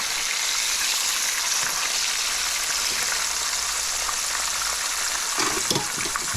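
Porgy fish fries in a Blue Diamond non-stick skillet with a dense, even hiss of sizzling oil that holds throughout, plus a faint knock near the end.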